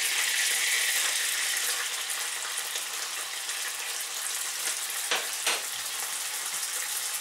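Garlic sizzles in hot oil in a pan while Chinese beans with ground pork are cooked, a steady bright hiss held throughout with a couple of short louder spatters near the end, close by and without talk.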